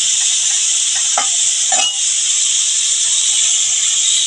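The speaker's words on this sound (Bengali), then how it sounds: "আমার কিন্তু চিংড়ি মাছগুলো ভাজা হয়ে গেছে" Shrimp frying in a pan with salt and turmeric while making a sour shrimp dish with gathi kachu, giving a steady loud sizzle with a couple of brief stirring scrapes partway through.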